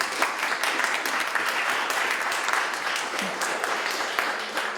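Audience applause at a literary event honoring a Macedonian author, a dense steady clapping from a room full of people lasting throughout, with no talk over it.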